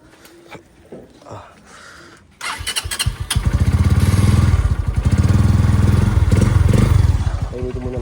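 A motorcycle engine cranks and catches, then settles into a loud, steady idle with a rapid rumbling beat, close by, after some quiet handling noises.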